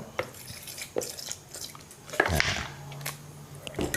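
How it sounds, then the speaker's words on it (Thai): Spoon stirring fish sauce into a Thai wasabi dipping sauce sweetened with dissolved sugar, close by: soft scraping, clinks and a few sharp knocks against the bowl at an uneven pace, with no talking. "ใส่น้ำปลานะครับ ก็คนให้เข้ากันนะครับ"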